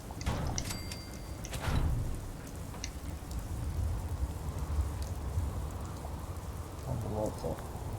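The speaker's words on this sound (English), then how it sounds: "proper lightning storm coming in, from the sounds of it." Steady heavy rain pours down throughout in the video game Fallout 4, with a low rumble of thunder underneath and a few sharper crackles near the start.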